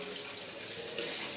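Water runs steadily from a washbasin tap just fitted by a plumber, a continuous close hiss of flowing water with no speech.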